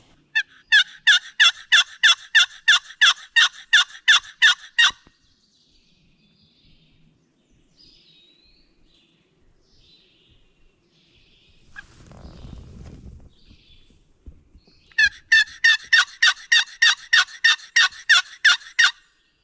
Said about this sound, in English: I decided to break out the old box call and give them something new to listen to